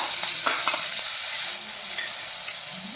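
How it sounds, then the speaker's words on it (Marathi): Finely chopped onion frying in oil with cumin and lightly crushed coriander seeds, a steady bright hiss with a few soft stirring touches, close and alone. "आता यामध्ये टाकायचा आहे बारीक चिरलेला कांदा।"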